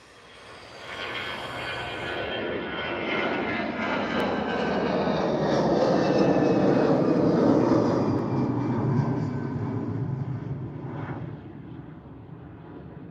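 An easyJet airliner rolls down the runway at Liverpool Airport on takeoff bound for Alicante, its jet engines swelling into a broad, loud roar that peaks midway and then slowly fades as it climbs away.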